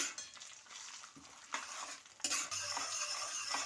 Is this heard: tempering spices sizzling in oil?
yes